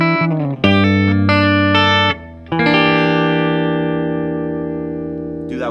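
Guitar plays the turnaround chords of a song, a few strummed chords that ring out alone with effects and reverb, each sustaining before the next.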